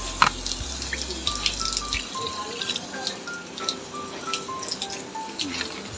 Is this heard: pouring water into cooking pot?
yes